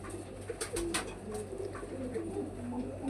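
Pigeons gathered from across Bangladesh cooing softly in a loft bedding room, low murmuring coos repeating faintly beneath a steady background hum.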